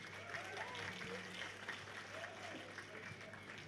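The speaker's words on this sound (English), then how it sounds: "Please give her a round of applause." Audience applauding at an Australian national jigsaw puzzle competition event, a steady sustained clapping spread across the room, moderately distant, with faint voices and a low hum underneath.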